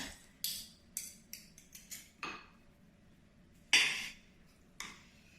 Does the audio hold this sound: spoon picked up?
yes